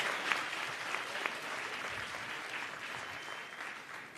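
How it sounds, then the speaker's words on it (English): An audience applauding a university choir at a youth tourism summit, a dense steady clapping at moderate distance that holds evenly for several seconds with a few sharper individual claps standing out. "I think we should really applaud them big,"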